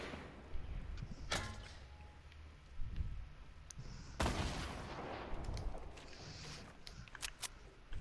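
Gunshots in the video game Fortnite, a few sharp cracks and booming blasts scattered through the clip against a noisy background, mid-distance and fairly loud.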